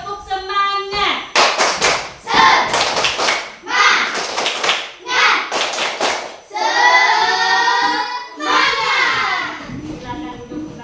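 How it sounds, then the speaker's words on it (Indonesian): Schoolchildren in a classroom perform a rhythmic spirit clap, loud close bursts of clapping in patterned groups broken by short pauses, with a teacher and children chanting between the claps. "Tepuk semangat."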